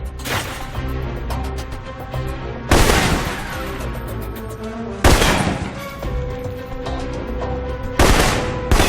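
Assault rifle fire in the video game Alpha Protocol, with loud, sharp bursts of shots every couple of seconds over busy game sound and background music.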